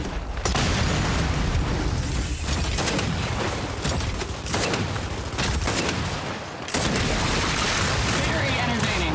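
Heavy gunfire in the video game Gears 5: dense, continuous automatic bursts with booming impacts, loud and close, broken by a few short pauses.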